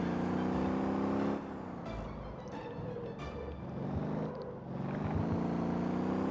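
A car engine drones steadily as the car drives casually through Motor Town: Behind The Wheel, its pitch rising and falling with gear shifts. The sound is faint and continuous, with no talk.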